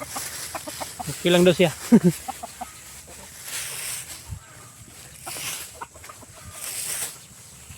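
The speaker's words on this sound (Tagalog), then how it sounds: "So may may babaeng manok na nagpunta dito, hindi yan sa amin, kapitbahay namin yan." A neighbour's hen clucks in short, scattered bursts near a house, mixed with a brief stretch of talk, soft rustling and background chatter.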